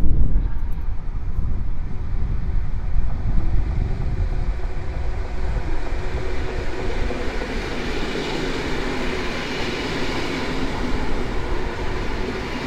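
Polregio EN57AL Tygrys electric multiple unit pulling into a station under construction, a loud continuous rumble and rail roar that builds and brightens as the train draws near, with no voices.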